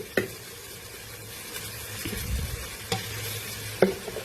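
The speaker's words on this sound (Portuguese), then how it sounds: "Agora ela vai fritar esse frango" Chicken sizzles steadily in a hot pan with seasoning, with a few sharp clicks and scraping stirs over the constant frying hiss.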